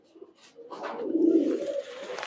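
A large female Bezi pigeon in a loft gives a single rising, throaty coo, close and clear, building from soft onset to a fuller swell before tapering off.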